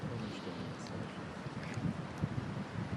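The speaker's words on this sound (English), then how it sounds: "Listen to the wind." Steady wind blowing outdoors, a broad continuous rush with gusty swells and low rumbling buffeting, moderately loud and alone.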